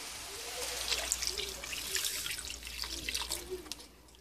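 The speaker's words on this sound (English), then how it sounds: "I'm going to add my water." Water is poured into a cassoulet pot, a soft continuous trickle and splash heard up close with faint kitchen clatter.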